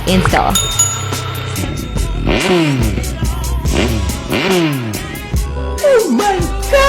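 A motorcycle fitted with an aftermarket Black Widow exhaust revs repeatedly, its loud engine climbing and dropping in rapid bursts with a throaty, rumbling exhaust note close by.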